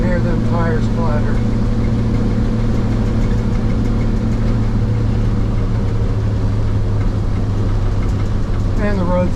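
A 1951 GMC barn-find truck on a test drive, its engine droning loudly and steadily with a constant rumbling clatter from the tires on a rough road, while someone talks briefly over the noise.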